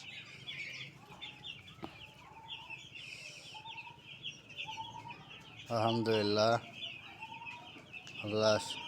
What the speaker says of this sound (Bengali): এ হলো আমার ব্রয়লার মুরগির বাচ্চা। আজকে 7 দিন বয়স।